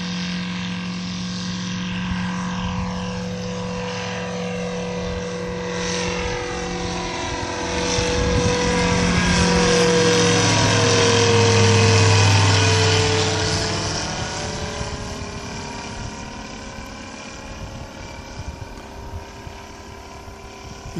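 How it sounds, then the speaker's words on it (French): A small ultralight plane's propeller engine drones at dusk at Cambaie, Réunion, building to a louder, rising roar midway through the takeoff run before easing off, continuous and fairly close. "Et le petit avion démarre derrière. Voilà, il est en train de prendre son élan."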